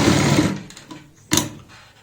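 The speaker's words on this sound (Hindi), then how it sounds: "इस निशान से ही हम पक्का करते हुए यहाँ पे सिलाई लगाएंगे।" A home sewing machine stitches a coat for an eight-year-old girl in two bursts, a long loud run first, a pause, then a shorter burst.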